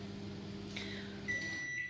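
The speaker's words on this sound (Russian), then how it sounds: "В общем, я сейчас в микроволновке подогреваю молоко." A microwave oven heating milk gives a steady low hum, then a couple of thin electronic beeps near the end.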